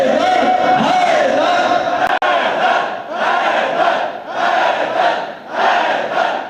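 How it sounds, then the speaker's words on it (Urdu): A large crowd shouts a chant together in unison, the loud collective voices rising and falling in repeated bursts, with one sharp click partway through. "اپنے ہاتھوں کو بلند کر کے مل کے بولو ہائے"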